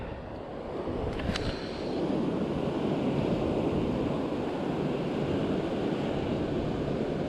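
Ocean surf rolling steadily onto a beach where someone is surf fishing for barred surf perch, with a continuous, loud wash of breaking waves and some wind rumble on the microphone. No one speaks.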